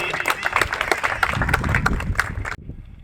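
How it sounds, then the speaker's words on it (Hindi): A crowd at a large Hindu gathering in a central park in Kanpur claps in a brisk, dense patter of sharp hand claps, which cuts off abruptly near the end, leaving low background noise. "तालियों से स्वागत होना चाहिए।"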